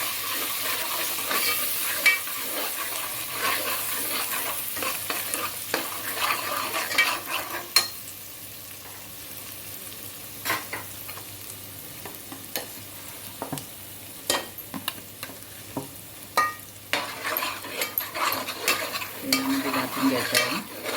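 Masala spices sizzle in oil for a Kolhapuri crab masala, a steady frying hiss broken by scattered clicks of stirring against the pan. The sizzle dips quieter partway through, then picks up again with busier stirring.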